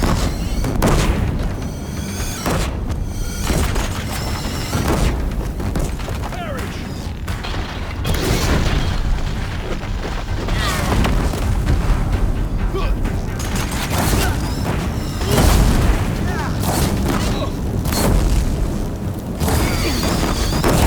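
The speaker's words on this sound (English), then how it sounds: "If the Deathbringers keep firing, this bridge will go." Deathbringer machines in Horizon Zero Dawn firing in heavy bursts, with booming explosions and creaking metal under near-continuous loud battle noise; voices are heard amid the din.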